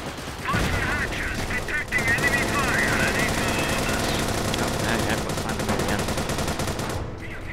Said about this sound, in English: British infantry are going to shoot me to death